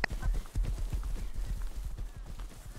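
Horse hooves clip-clop in a steady, quick rhythm in the survival video game Rust, close and prominent over a low rumble, with a brief neigh-like sound near the start.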